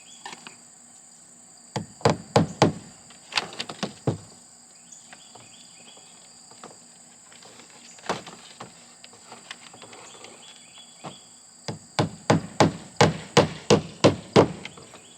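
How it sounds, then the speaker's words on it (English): A hammer drives nails into a P-strip on wooden shed siding outdoors, in quick bursts of several sharp, close strikes with short pauses between groups, while insects buzz faintly behind. "First thing I need to do is nail up a P-strip"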